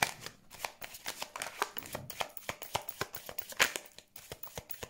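Oracle cards being shuffled by hand for a card reading, a steady run of quick riffling, flapping strikes, close and moderately loud, with no talking.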